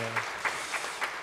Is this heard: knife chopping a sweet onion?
no